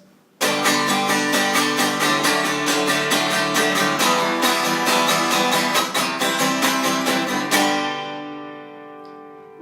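An acoustic guitar strummed wildly and loudly with big swinging arm strokes, a fast, even, relentless run of strums that ends with a final chord ringing out alone.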